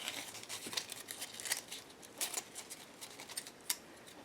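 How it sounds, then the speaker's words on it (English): Scissors snip through fabric, cutting rough circles for the flowers of a handmade doll. Quick crisp crinkling cuts come in an irregular rhythm, close and fairly quiet, with no talking. "I'm going to cut some circles, or sort of circles, out of the fabric."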